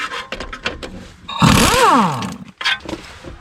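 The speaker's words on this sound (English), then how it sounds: "Now remove the nut the rest of the way." A nut comes off the CV axle of a 2003-2007 Honda Accord with a loud powered whir of about a second, its pitch sweeping up and down between light clicks and handling knocks.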